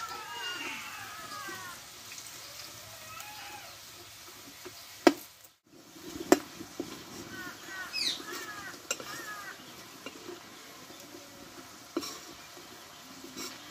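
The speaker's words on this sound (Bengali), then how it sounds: "মটরগুলো কিন্তু ভাজা হয়ে গেছে এগুলো" Peas frying in oil, stirred and broken apart with a metal strainer, give a steady low sizzle broken by sharp scraping clinks and knocks of the strainer against the pan, with a voice speaking faintly.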